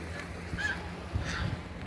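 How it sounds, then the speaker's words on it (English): Ducks on a river in a park give a couple of faint, short honking calls, distant and thin against a steady outdoor wind hiss. "that is a river, and those are ducks"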